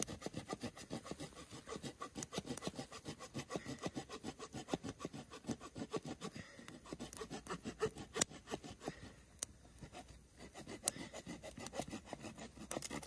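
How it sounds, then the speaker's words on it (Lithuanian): A hand saw cuts through a damp tree branch in a forest, a steady rhythmic rasping of quick back-and-forth strokes, close and fairly quiet, with no talking. "Pjaunu."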